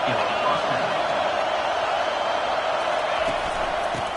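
Football stadium crowd at a Florida State game roaring steadily throughout, a dense, loud wash of cheering voices with no break.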